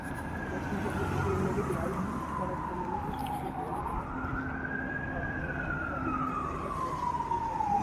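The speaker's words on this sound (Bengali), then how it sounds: "একটা অ্যাম্বুলেন্স আসছে" Ambulance siren on a street, wailing up and down as it approaches and passes, fairly close over traffic rumble, with people talking.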